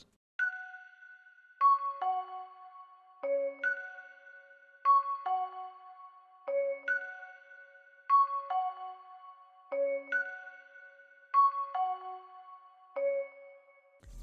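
A bright bell-like synth preset called Key A Bell plays a repeating melodic pattern of struck, ringing tones with quick decays, clean and dry with low end cut, looping steadily throughout.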